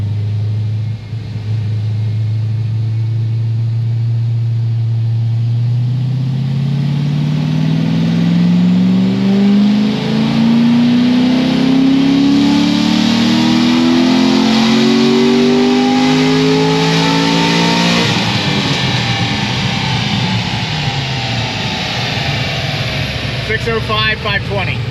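A naturally aspirated LS7 V8 with almost 36,000 miles on it makes a loud dyno pull, revving steadily from a low drone to a high wail and then dropping away. The engine roars continuously at close range, with no talk.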